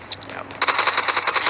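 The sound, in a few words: gunfire in video game PUBG Mobile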